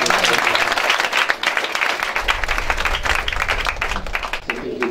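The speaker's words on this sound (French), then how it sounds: "Est-ce qu'on peut acclamer Jésus?" Church congregation at a Sunday service applauding loudly to acclaim Jesus, dense sustained clapping from a large crowd with cheering voices mixed in throughout.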